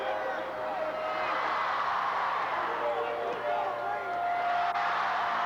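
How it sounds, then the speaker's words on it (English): A lively basketball arena crowd during a 1988 Atlanta Hawks versus New Jersey Nets game, a steady, dense roar of many voices and cheers that holds loud throughout, with faint speech mixed in. "Lively crowd making noise."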